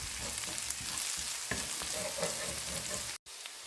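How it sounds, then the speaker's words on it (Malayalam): Beans and carrot thoran sautés in a pan until brown, with a continuous soft sizzle and occasional stirring scrapes close by, then a brief cut to silence near the end. "ഇനി ഇത് നന്നായിട്ടൊന്ന് ബ്രൗൺ കളർ ആവുന്നത് വരെ നമുക്കൊന്ന് വഴറ്റിയെടുക്കാം"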